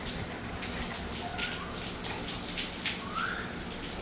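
Rain patters and drips in a soft, steady wash, fairly quiet with occasional brighter drops and no voices.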